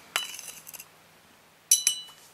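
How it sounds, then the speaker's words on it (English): A chopstick stirring crushed myrrh, salt and frankincense in a glass or ceramic vessel, producing two close bursts of bright clinks and scraping rattles separated by a quiet pause. "we will just give it a little stir around"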